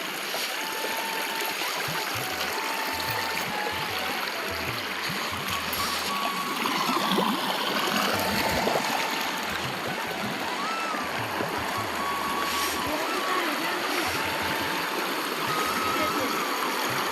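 The Hathni river, backed up by the Sardar Sarovar Dam, rushes and splashes steadily during a crossing, a constant close wash of flowing water with voices over it.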